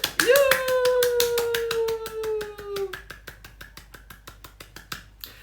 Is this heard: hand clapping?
yes